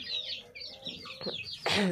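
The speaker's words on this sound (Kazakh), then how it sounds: "Міне балапандарым." Young two-to-three-month-old chicks cheeping and clucking softly close by, several short high calls in quick succession.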